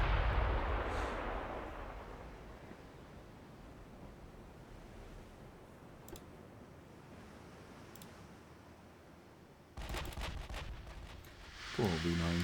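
Battleship guns fire in Ultimate Admiral Dreadnoughts during a 1930 UK campaign: a heavy, rumbling salvo opens, fading into a sea-like wash, before further sharp, crackling blasts return near the end.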